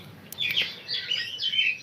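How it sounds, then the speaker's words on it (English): Birds chirping in the background outdoors, a few short, high, thin tweets repeating in quick bursts at moderate distance over a quiet hiss, with no voices. "because in my background a lot more birds are just chirping"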